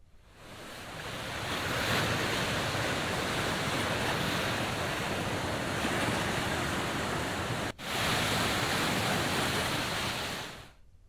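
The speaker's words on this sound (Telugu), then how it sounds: "ఎగువ నుంచి భారీగా వరద వస్తున్న నేపథ్యంలో సాగర్ 26 గేట్లు 10 ఫీట్లు ఎత్తి నీటిని దిగువకు విడుదల చేస్తున్నారు" Flood water roars through the 26 gates of the Nagarjunasagar dam, raised 10 feet, during heavy inflow: a loud, steady wash of rushing water, with a brief dip near the end.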